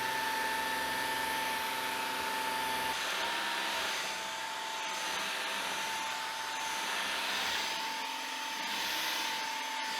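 A Shark CleanSense IQ+ (IW3241KR) cordless stick vacuum cleaner runs steadily with a high whining motor hum that shifts slightly in pitch as it works across the floor, close and continuous with no speech.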